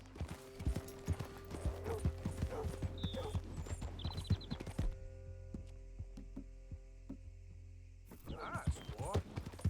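A horse's hooves clip-clop in a steady walking rhythm in Red Dead Redemption 2, close and distinct over a low electrical hum, with the hoofbeats stopping midway and someone speaking briefly near the end.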